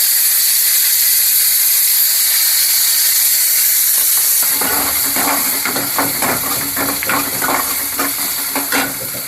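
Onion hits hot oil with fennel seeds in a pan, and a loud hiss gives way to steady sizzling and frying with scattered crackles, close up and without talk.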